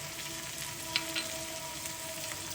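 Chopped potato sizzling in oil in a pan with onion and green chillies, a steady, even frying hiss throughout with a couple of faint clicks, no voices.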